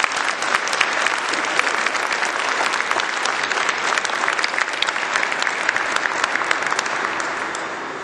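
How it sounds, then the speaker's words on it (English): A ceremony crowd at a military awards event for 129th Rescue Wing airmen gives sustained, dense applause to decoration recipients, loud and even throughout with crisp individual claps standing out. "please give a round of applause to the recipients of these decorations"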